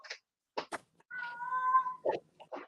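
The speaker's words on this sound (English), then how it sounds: "The kitty cat even got excited." A cat meows several times indoors, short chirping calls followed by a longer drawn-out meow, close and clear with quiet gaps between the calls.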